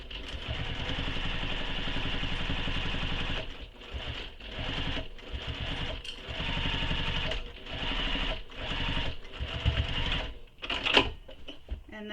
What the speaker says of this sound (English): I'm just literally stitching directly on top of that